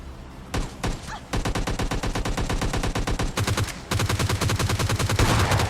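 Rapid automatic gunfire from PUBG Lite video game fighting, loud sustained bursts of evenly spaced shots with brief pauses between strings, heard up close and without talk.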